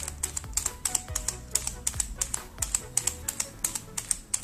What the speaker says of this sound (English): So I've noticed the cube is really loud, and that's because of the magnets.